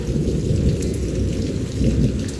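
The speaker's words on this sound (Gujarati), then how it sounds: "હજી વરસાદ ને વીજળી ને તો બંધ થાય નહીં" Heavy rain pours steadily in Surat while deep thunder rumbles continuously underneath, loud and close, with no voices.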